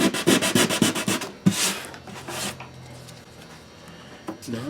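Sandpaper of 180 grit rubs back and forth along a Spanish guitar neck, giving a quick run of rhythmic scraping strokes up close, then a softer, quieter stretch of sanding.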